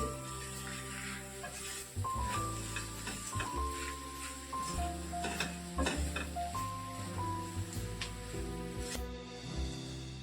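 Potato filling with onion, salt and chopped coriander is stirred and sautéed in a pan, a soft continuous sizzle broken by repeated scraping strokes of a spoon, close and fairly quiet, with no voices.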